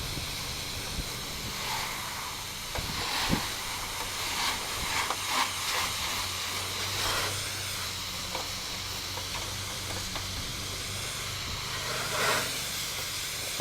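A high-volume pressure washer rinses the outside of a house on a windy day, giving a steady hissing spray of water with small surges and splatters as the stream moves across the wall.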